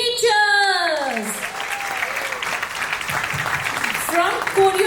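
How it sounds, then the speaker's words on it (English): Applause for teachers at a kindergarten's annual day celebration, a steady wash of clapping from the crowd that carries on for several seconds, with a voice speaking over it at the start and briefly again near the end. "A huge round of applause for our incredible teachers!"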